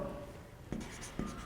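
Chalk or marker strokes on a board during a chemistry lesson, two brief taps standing out over a steady room hum, with no talking.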